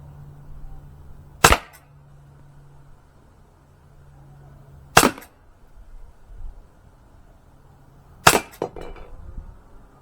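An Umarex Glock 17 Gen 5 T4E pistol firing balls, with three sharp, loud single shots spaced a few seconds apart, some followed by a brief clink or rattle, and quiet room noise between shots.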